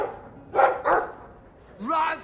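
A dog barking in the video game Dragon Age 2, two quick barks followed by a short yelp-like vocal over quiet game background.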